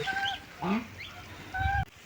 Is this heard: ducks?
yes